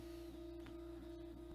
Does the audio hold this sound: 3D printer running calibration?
yes